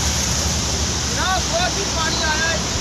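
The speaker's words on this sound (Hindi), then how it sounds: "बहुत पानी आया, सब चढ़ गया, बहुत पानी आ रहा है।" Floodwater from the swollen Tawi river rushes loudly and continuously in a dense, roaring wash, with faint voices and bird-like chirps barely rising above it.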